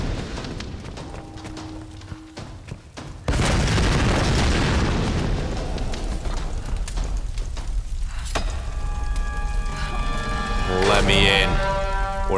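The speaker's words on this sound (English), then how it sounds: "So many explosions." Explosions in the video game Tomb Raider 2013 start with a sudden loud boom. A dense, roaring rumble follows and keeps going, with a brief crackle of debris near the end.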